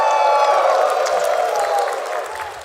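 A live Tekken World Tour Finals tournament crowd cheering and applauding, a loud, dense roar of claps and whoops that holds steady and then tapers slightly.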